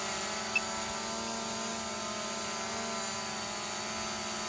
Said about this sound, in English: I'm going to bring the drone in close to demonstrate the